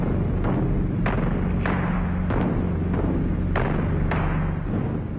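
A large Japanese taiko drum struck repeatedly with a hammer at an uneven pace, each hit a deep thud over a constant low background hum.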